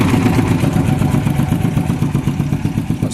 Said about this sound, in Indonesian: Nah, ini dia kendaraan penggiling padi.